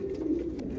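Racing pigeons, a breeding pair of dark birds in their nest, coo in a low, steady, continuous rumble close by, with no voices over it.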